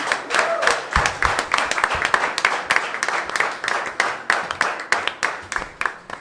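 A church congregation applauds in a sustained burst of hand clapping, loud and close, with the rhythm pulsing as the clapping swells and fades in waves.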